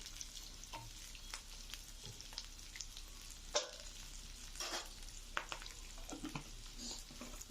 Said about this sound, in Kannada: ಇದೆಲ್ಲ ಸ್ವಲ್ಪ ಚೆನ್ನಾಗಿ ಎಣ್ಣೆಯಲ್ಲಿ ಹುರ್ಕೊಳ್ಳೋಣ.